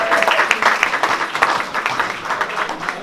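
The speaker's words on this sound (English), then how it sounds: "So a round of applause for Kaz" Warm applause from a gallery audience, a continuous patter of many hands clapping at close range, steady and lively for a few seconds.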